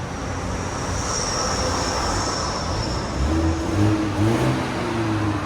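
A 2021 BMW M430i with a 2.0L turbo engine and straight pipes gives a low, steady engine rumble from nearby, rising slightly in pitch and level toward the end.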